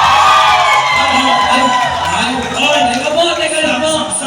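At a Christmas party show, a crowd shouts and cheers loudly for a contestant, with whoops and overlapping voices rising and falling in continuous waves.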